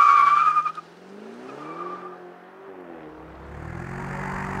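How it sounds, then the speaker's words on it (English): 2013 BMW Alpina B7 braking hard from 60 mph, tires squealing and skidding loudly at first, then fading into a lower, shifting squeal as the car slows, with the engine rumbling faintly at the end. "for our 60 to 0 braking test, takes the B7 just 104 feet to stop from 60"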